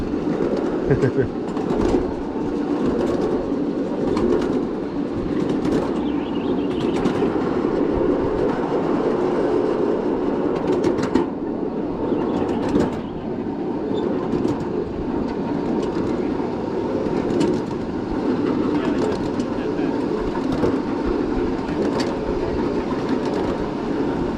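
A small ridable miniature train rumbles along its track with a steady rolling clatter and faint rhythmic clicks, continuing without pause.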